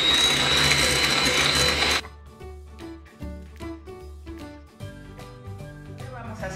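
An electric mixer beats cream for a dulce de leche and strawberry trifle, giving a loud, steady whirring buzz for about two seconds before it cuts off, followed by quieter, sparse tonal sounds.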